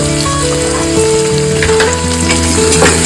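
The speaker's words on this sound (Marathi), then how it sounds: "एक कांदा चिरून घेतलेला आहे बारीक, तो घालू। थोडे खडे मसाले घालू।" Finely chopped onion and whole spices frying in two spoons of hot oil for a spicy mutton curry, a loud, close, constant sizzle with stirring noises throughout, over faint background music.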